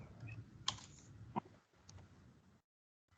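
Quiet keystrokes on a computer keyboard, a few distinct clicks spaced irregularly over a soft room background, fading out to near silence at the end.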